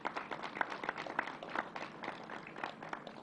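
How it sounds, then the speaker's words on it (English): Audience applause at a governor's COVID-19 briefing, a faint, fairly distant patter of many hands clapping steadily for a few seconds. "Let's give them a round of applause."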